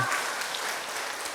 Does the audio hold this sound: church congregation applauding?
yes